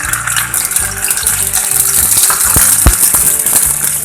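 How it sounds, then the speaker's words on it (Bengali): Spice paste tipped into hot oil for a vegetarian dhokar dalna, bursting into a loud, steady close-up sizzle and spatter that carries on throughout with no talk. "তেলটা আমার গরম হয়ে গেছে, এবার পেস্ট করা এই মশলাটা আমি ঢেলে দেবো।"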